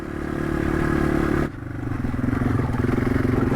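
A Yamaha TW200 motorcycle rides off-road over rough ground, its single-cylinder engine droning steadily and close. A brief dip comes about midway before the engine climbs back, with clattering from the terrain underneath.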